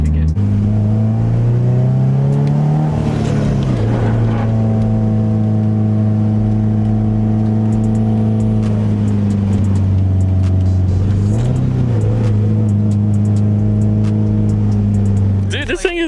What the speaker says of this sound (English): Subi noises intensify.